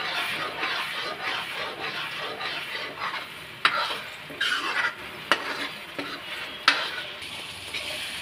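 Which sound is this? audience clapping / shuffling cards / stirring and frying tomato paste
stirring and frying tomato paste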